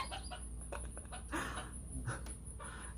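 Chickens cluck softly and intermittently nearby over a steady background hum, with a few brief squawky notes.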